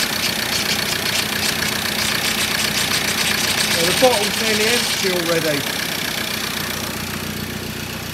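A recon 2.2 TDCi engine in a 2013 Ford Ranger runs steadily at idle, a constant close mechanical drone throughout while people talk over it.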